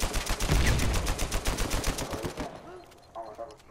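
Rapid bursts of gunfire from Uncharted 4, a video game, crack loudly for over two seconds and then give way to quieter, scattered shots and movement sounds. No one speaks.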